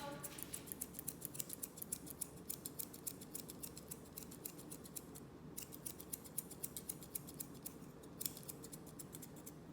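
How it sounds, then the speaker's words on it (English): Rapid, quiet snipping of scissors trimming a Nova Scotia Duck Tolling Retriever's toe hair repeats steadily through the whole stretch, a soft close-up clicking rhythm with one brief pause. "hold my scissors at the same angle"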